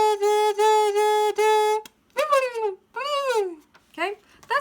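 A homemade turkey call is worked to imitate a gobble, producing a string of high, yelping, warbling bursts in quick uneven runs, close and loud, with short gaps between.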